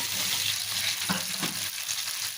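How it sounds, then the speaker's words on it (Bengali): Bhetki fish coated in turmeric and salt frying in hot oil, a dense continuous sizzle with a couple of brief scraping touches partway through. "এখন এই যে ভাজি করা হবে তাই হলুদ লবণ মাছ নেওয়া হয়েছে তো এই যে এখানে দিয়ে দেওয়া হয়েছে ভাজি করার জন্য"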